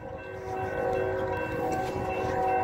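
A Union Pacific eastbound autorack freight train passes on tracks in Texas, a steady rumbling roar with a sustained horn tone, building slightly in loudness and heard from nearby without talk.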